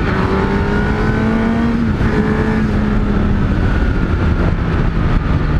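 A Honda CBR1000RR Fireblade motorcycle engine accelerating hard on a fast ride, a loud steady roar with rising and shifting engine tones, close and continuous with heavy wind rush.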